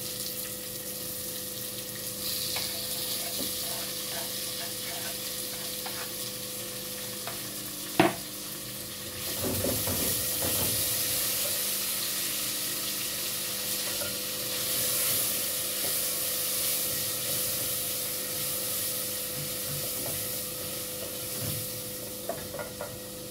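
Tomatoes fry and sizzle in a pan for a groundnut and simsim sauce, with steady frying hiss and occasional stirring scrapes and clinks close by, and no talking.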